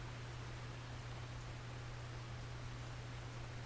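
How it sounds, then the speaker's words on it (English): Steady rain falling at a lakeside in Russian Fishing 4, an even wash of hiss with a constant low hum beneath, unbroken and unchanging throughout, no talk. "There you go, rain's coming down."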